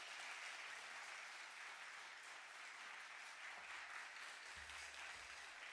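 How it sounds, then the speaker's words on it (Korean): A church congregation at a Friday worship service claps warmly to welcome a pastor, producing a steady, dense wash of applause from many hands that carries on evenly, heard at a distance and fairly soft. "뜨거운 박수로 한번 환영해 주시기 바랍니다."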